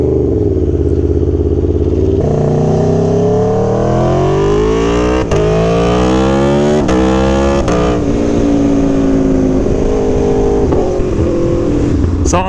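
Aprilia Tuono V4 1100 motorcycle engine running in its sport map, loud and close, revving repeatedly with rising and falling pitch sweeps and sharp blips between rises.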